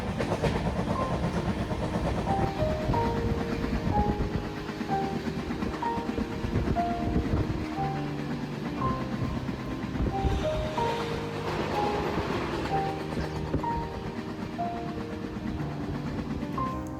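A Vijayawada to Tirupati special express train running, heard from on board as a steady rumbling roar with rhythmic clickety-clack of wheels over rail joints throughout.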